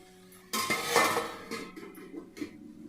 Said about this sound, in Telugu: ఇలా బాగా మిక్స్ చేసిన తర్వాత మనం ఒక మూతనైతే దానిపైన పెట్టేద్దాం.